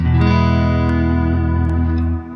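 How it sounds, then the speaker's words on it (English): A clean Stratocaster on the neck pickup rings out sustained chords, washed in lush reverb and trailing delay, loud and steady without any voices. "This very much is a Strat sound, clean, neck pickup. You want some delay. You want some lush reverb on."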